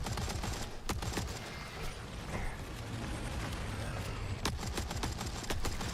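Gunfire from 9mm pistols, a C96 and an M60 in the video game Forever Winter: dense, loud, continuous shooting with sharp repeated cracks and mechanical clatter throughout.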